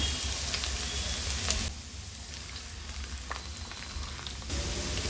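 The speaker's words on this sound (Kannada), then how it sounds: "1 ಚಮಚದಷ್ಟು ಬೆಳ್ಳುಳ್ಳಿನ ಕಟ್ ಮಾಡಿ ಇಟ್ಕೊಂಡಿದ್ದೀನಿ, ಅದನ್ನು ಸೇರಿಸ್ಕೊಂಡು ಫ್ರೈ ಮಾಡ್ಕೊಳ್ಳೋಣ." Chopped garlic with cardamom, cinnamon, cloves and bay leaf fry in oil in a pan for capsicum rice bath, giving a steady sizzle that drops quieter for a few seconds before rising again; no speech.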